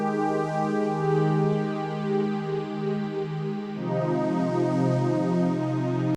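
Layered synth pad in FL Studio with a white noise texture on top: sustained harmonic chords shift once midway, with a faint airy hiss riding above, steady and loud until a sudden stop.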